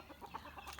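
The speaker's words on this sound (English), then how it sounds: "it's a hen beating up a guinea" A Barred Rock hen chases a guinea fowl, with soft scattered clucks and squawks at low level, brief and somewhat faint.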